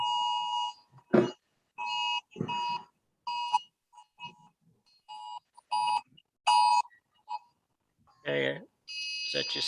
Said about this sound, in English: everybody's phone's going off? There's a silver alert going on